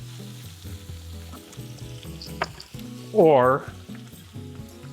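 Calamari squid steaks heat in a hot pan, a steady frying sizzle with some clatter and stirring, while someone talks briefly over it.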